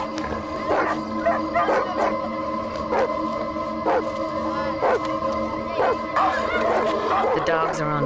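Several dogs barking and yelping repeatedly in short bursts at a cobra that spreads its hood, near and loud over a steady background hum, with a narrator's voice over part of it.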